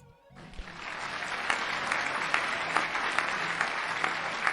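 A crowd cheering and applauding for two competing teams at a Killer Queen esports match, rising in quickly and holding as dense, loud, sustained clapping.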